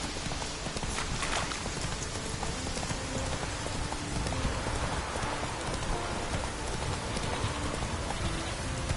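Horse hooves clip-clopping in a video game, a steady stream of light hoof beats over a constant rain-like hiss, moderately faint, with no talking.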